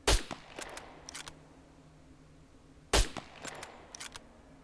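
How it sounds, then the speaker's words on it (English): Two loud, sharp gunshots from a scoped rifle in a video game, each followed by a few lighter mechanical clicks and clatter, about three seconds apart over a steady low game hum. "all we're doing is shooting through a scope here"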